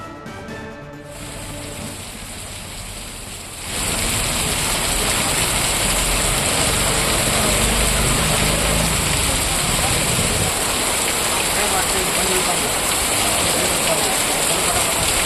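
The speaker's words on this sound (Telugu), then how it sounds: "ఈదురుగాలులతో కూడిన భారీ వర్షం పడింది" Heavy rain lashes down with gusty winds across farmland and villages, a loud, dense, steady roar that thickens abruptly after a few seconds and stays intense throughout, with no voices.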